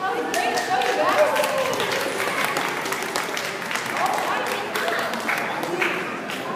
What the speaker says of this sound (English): Alright, so we give the party time round of applause.